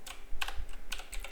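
Fingers type on a computer keyboard while coding a web page, giving a quick irregular run of close, crisp key clicks and taps with no speech.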